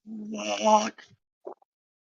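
A human voice imitates an elephant bird's squawk: one loud, strained, hoarse call, followed by a couple of brief softer vocal sounds, close and alone.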